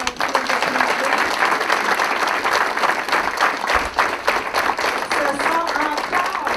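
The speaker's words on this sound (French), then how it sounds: "Je pense qu'on peut les applaudir." An audience at a local community event applauds steadily, moderate-volume clapping sustained throughout with a few voices murmuring faintly beneath it.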